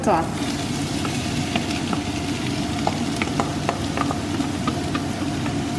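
Garlic, onions and small carrots frying in a little olive oil, a steady close sizzle with scattered crackles and pops, running continuously with no pause.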